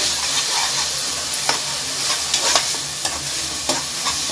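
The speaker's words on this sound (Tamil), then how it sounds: "இப்போ இது எல்லாத்தையும் சேர்த்து நல்லா வதங்கி வரட்டும்" Onion paste sautés in a pan for mutton leg curry, giving a loud continuous sizzle with repeated scraping stirs of a spoon at irregular intervals.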